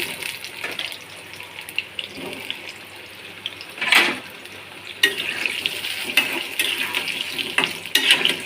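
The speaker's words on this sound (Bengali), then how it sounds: "এখন আমি যে ভাজার জন্য উঠিয়ে দিয়েছি এগুলো একটু ভাজা ভেজে নিব আমি" Boiled elephant foot yam pieces, cooked with turmeric and salt, fry in a pan with a soft continuous sizzle, broken by a few louder clattering stirs and splashes close by.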